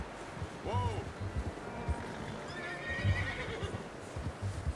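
Horse in the video game Red Dead Redemption 2 gives a short neigh early on, followed by a softer whinny, while hooves clip-clop in an uneven rhythm throughout over a low ambient bed.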